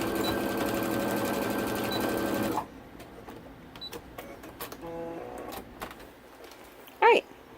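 A sewing machine running a line of stitching along a waistband, a loud, fast, steady mechanical whir for a couple of seconds, then stopping, followed by faint handling clicks and a brief squeak.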